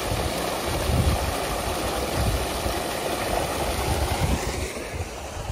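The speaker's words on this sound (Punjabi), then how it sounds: "ਮੋਟਰ ਚੱਲਦੀ ਹੈ ਜੀ" An electric motor pump runs on a farm, giving a steady, continuous hum mixed with broad wind-like noise, with no talking.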